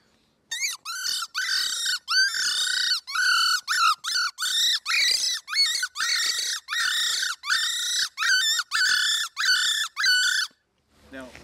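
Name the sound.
predator call imitating a bird sound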